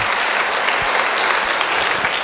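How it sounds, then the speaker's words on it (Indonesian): A church congregation claps in loud, sustained applause at a baptism service, filling the whole moment. "Beri tepuk tangan yang baik bagi dia."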